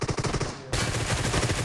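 Rapid automatic gunfire in BGMI (Battlegrounds Mobile India), a dense burst of shots that breaks for a moment and then resumes louder and continuous, close and dominant.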